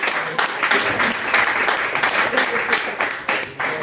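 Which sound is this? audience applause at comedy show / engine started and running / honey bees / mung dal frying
audience applause at comedy show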